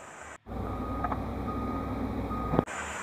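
A muffled electronic reversing beep from a toy excavator sounds steadily for a couple of seconds over a low mechanical hum, starting and stopping with faint clicks.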